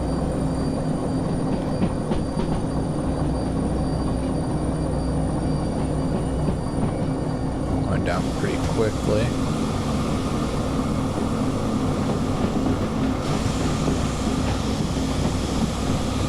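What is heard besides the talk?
train braking in the video game Derail Valley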